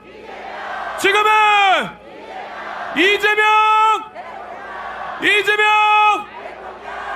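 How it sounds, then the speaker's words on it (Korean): A large outdoor crowd at a presidential election rally chants a candidate's name in unison three times, each a long sustained shout with pauses between, loud and close. "여러분 다시 한번 이재명 후보에게 큰 박수와 함성 부탁드립니다."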